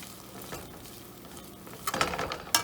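Broccoli and capsicum being stirred and fried in a pan, a steady soft sizzle with scraping stirs that grow louder and busier toward the end, close up and without talk.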